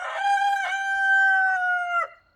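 A rooster crows once, near and loud, a single long sustained call with a short rising start and a clipped ending, heard alone with no talk.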